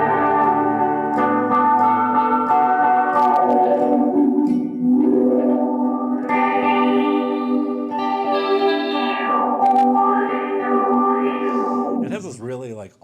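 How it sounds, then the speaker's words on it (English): An electric guitar runs through an Earthquaker Devices delay pedal, giving bright, crystallized repeats: sustained chiming notes with shimmering echoes and pitch sweeps, loud and close, ending in a rapid warbling flutter. "then you end up with this like really crystallized kind of bright delay"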